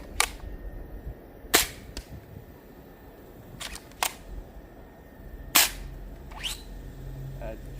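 A Nerf blaster dry-fires with no dart loaded, giving several sharp, isolated snaps spread out over a few seconds. Each snap stands clear over a quiet, low background.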